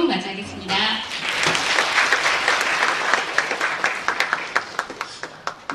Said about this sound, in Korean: 박용호 관점 디자이너를 큰 박수로 맞이하겠습니다.